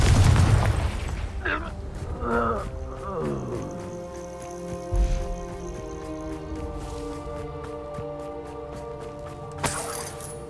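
A Confringo blasting spell goes off in the Hogwarts Legacy video game, a low boom at mid-clip among other spell bursts and whooshes, under sustained orchestral game music with a voice at the start.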